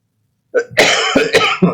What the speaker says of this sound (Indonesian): Maaf, sedang batuk.